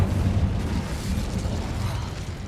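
A deep, rumbling fire blast from the Incendio spell in Hogwarts Legacy, a loud low boom at the start that trails off into a sustained crackling roar.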